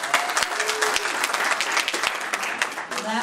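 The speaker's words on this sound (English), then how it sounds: "Go ahead and applaud" Audience at the MidCamp 2014 Drupal conference keynote bursts into dense, steady applause, loud and close, with a few higher voices mixed in and a brief tail-off at the end.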